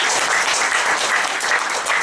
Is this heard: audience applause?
yes